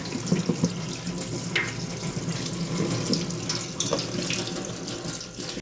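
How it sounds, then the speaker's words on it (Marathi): Tap water runs steadily over a kitchen strainer as it is rinsed, a continuous close splashing stream with small surges and no voices. "आता मी गाळणी तर तसे छान धुवून घेणार आहे"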